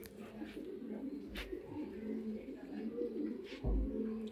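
Young club-ringed racing pigeons coo faintly nearby, with low, soft, continuous burbling and a couple of brief thumps.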